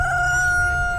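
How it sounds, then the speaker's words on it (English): A rooster crows close and loud, one sustained tonal cock-a-doodle-doo held across the whole moment over a low background rumble. "The rooster's following us."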